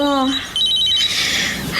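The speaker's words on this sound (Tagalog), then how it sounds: "Cellphone ko." A cellphone rings with a bright electronic trill in short repeated bursts, loud and close, with a voice briefly heard under it.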